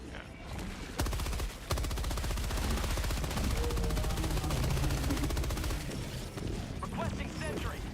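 Flak autocannon firing in the shooter game Helldivers 2: rapid heavy bursts of gunfire forming a dense continuous rattle, loud and close, alongside other battle noise.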